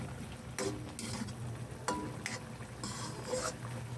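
Jackfruit simmering in coconut milk in a pot, with a soft steady bubbling hiss, brief stirring bursts and light utensil scrapes throughout.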